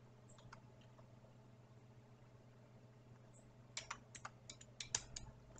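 Computer keyboard typing a command in R, faint at first and then a quick cluster of clicky keystrokes toward the end, close and alone over a steady low hum.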